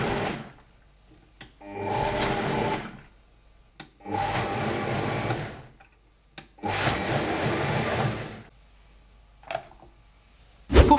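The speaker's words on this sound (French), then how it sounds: "utiliser la fonction pulse de votre mixeur. Donc en gros, vous n'allez pas mixer en continu, mais vous allez mixer par à-coups" A kitchen blender pulsing oats and water into oat milk in four roughly two-second whirring bursts separated by short silences and faint clicks.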